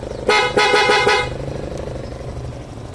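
A Suzuki Access scooter's aftermarket PIAA horn honks in several short, loud toots in quick succession, then stops, leaving a low engine rumble.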